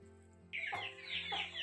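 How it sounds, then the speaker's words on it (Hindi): Jungle fowl clucking nearby in the Himalayas, a run of short, bright calls starting abruptly and continuing with uneven rhythm, no talking. "जंगली मुर्गे यहाँ पर घुस गए हैं"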